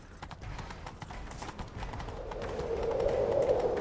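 Rapid, steady clip-clop of galloping horse hooves in the video game The Witcher 3: Wild Hunt, close and continuous, growing slightly louder toward the end over a low rumbling background.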